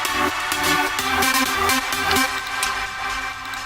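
A synth lead made in Hypersia for an uplifting trance track plays a steady rhythm of bright, sharply articulated repeated notes, loud and upfront over a full electronic backing with no talking.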